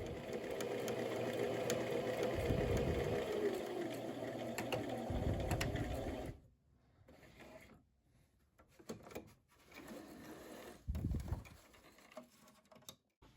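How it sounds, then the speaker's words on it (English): A sewing machine runs in steady bursts while stitching a pocket on a quilted book sleeve, its motor whirring close by, then stops for quieter handling noises and a short final stitch run. "So you'll see I stitch all the way to the bottom, do a couple stitches across, and stitch parallel all the way back up"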